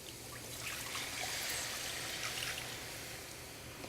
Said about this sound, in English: It seems like a lot of vinegar, but about 3/4 of a cup. And just stir in.